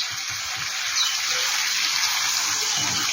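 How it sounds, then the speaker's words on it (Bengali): Water poured into a cooking pot of jackfruit and prawn curry, a continuous bright gushing splash, close and fairly loud, steady for a few seconds with no speech. "এবার আমি জলটা দিয়ে দেবো"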